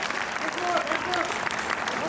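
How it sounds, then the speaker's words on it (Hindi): An audience at a comic Hindi poetry recital breaks into loud, continuous clapping, with a voice speaking over the applause throughout. "आपको अच्छी लगे तो आप एक बार जोरदार तालियां बजाइए।"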